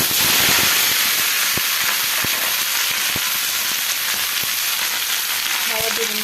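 Chopped onion and ivy gourd frying in a pan after a mustard-seed tempering, a loud, continuous close sizzle and hiss with scattered faint taps of stirring.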